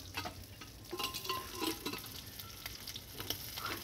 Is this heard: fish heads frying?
yes